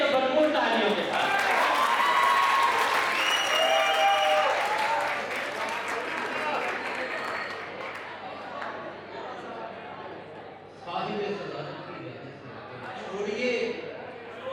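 Audience applause at a university mushaira poetry recital in Lahore, a broad, dense wash of clapping that fades through the middle and then swells again, with crowd chatter mixed in.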